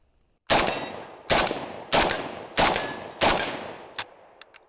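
AK-47 rifle firing five loud, sharp single shots at an even pace, each with a short ringing decay, followed by a faint metallic click and small clinks.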